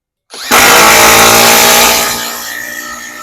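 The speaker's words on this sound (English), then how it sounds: "We're going to use a big lag bolt here. Going to use a 1/2-inch impact." A Metabo HPT WR18DH 18V 1/2-inch impact wrench drives a large lag bolt in one loud, continuous burst of rapid hammering whir that bogs down slightly toward the end, with no talk.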